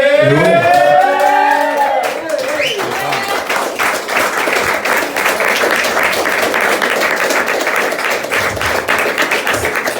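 Audience applause at an open-mic stage show, starting under a few seconds of voice and then swelling into dense, steady clapping that fills the rest of the stretch.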